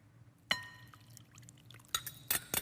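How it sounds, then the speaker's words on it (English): Eggs, oil and water being poured into a bowl for a cake mixture, a sudden splashing pour followed by quieter trickling and a few brief clinks, close and fairly faint with no talking. "put the eggs in with the oil and the water and kind of mix those up a little bit"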